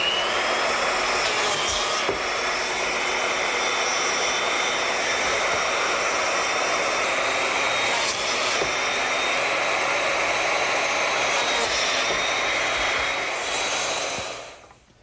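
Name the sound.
biscuit joiner cutting slots in board joints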